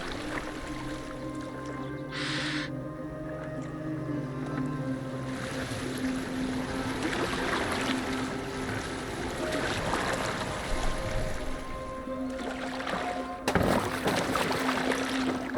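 Boat moving across open water in Assassin's Creed Valhalla, a steady wash of waves and wind with a low hull rumble running throughout, plus a brief burst of splashing spray near the end.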